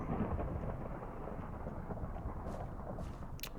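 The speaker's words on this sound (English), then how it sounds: "Why has it gotta be so stormy?" A video game thunderstorm gives a continuous low rumble of thunder with steady rain hiss throughout, fairly quiet and unbroken, with a few faint high clicks near the end.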